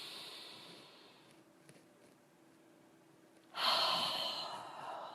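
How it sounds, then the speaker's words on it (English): A deep cleansing breath taken during a guided relaxation, heard as quiet, soft breathing followed by a sudden, loud, airy exhale close to the listener. "I'd like you to just take 3 nice cleansing breaths."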